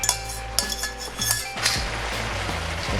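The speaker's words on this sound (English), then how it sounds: "Then we're gonna add in our noodles." Noodles go into a pan of chicken lo mein with oyster sauce and soy sauce, bringing a quick run of close metallic clinks and scrapes of utensils against the pan, then softer stirring and rustling.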